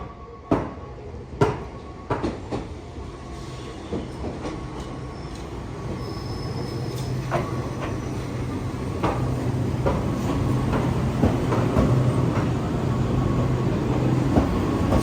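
Onboard a moving train in Kamakura, Japan, heading toward Hasedera station, with a steady rumble of the rail car and repeated clacks and knocks from the wheels over the track joints. Faint squeals occur throughout.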